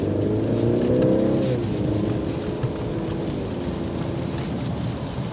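A 2024 Mercedes-Benz C300 accelerates, its engine note climbing loud and close before easing into a lower steady hum as the car settles into cruising, with no talk over it.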